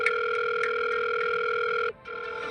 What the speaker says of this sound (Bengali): মাসি ল্যান্ডলাইন থেকে ফোন করছে কেন?